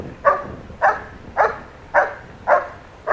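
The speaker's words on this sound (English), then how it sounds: "Nice barking, good drive behavior." A good-sized young working dog barks six times in an even, spaced rhythm, each bark loud and close, with no talking over it.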